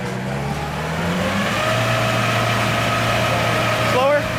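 An off-road vehicle, a Mahindra Roxor or a 1948 Willys CJ-2A Jeep, revs its engine in a steady, close hum that rises after a moment and holds, while people talk over it.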